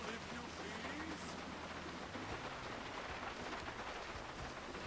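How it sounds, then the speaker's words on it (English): Steady rainfall in Grand Theft Auto V, a continuous, even hiss of rain pattering on surfaces that stays constant throughout with no talk over it. "It's still raining, though."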